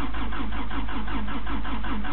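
A 1986 Toyota engine being cranked for a cold start, with the starter's steady rhythmic churning pulsing about four times a second, loud and close for the whole stretch without catching.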